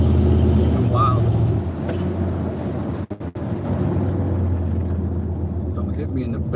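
A small Audi car rolls past on a city street, a steady low engine and tyre rumble close by under ongoing talk, with a brief dip midway.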